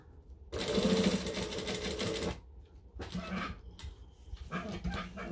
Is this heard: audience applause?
no